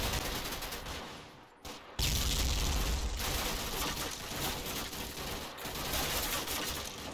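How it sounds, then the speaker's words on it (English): Sustained, dense volleys of rifle and machine-gun fire laying down suppressive fire in the Combat Mission wargame during a Monte Cassino battle, loud and continuous with a brief dip before the barrage swells again. "they're able to lay down maximum suppressive fire"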